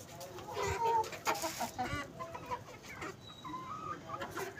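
A hen clucks repeatedly close by at a home poultry setup, short irregular clucks and cackles with some background noise and no talk.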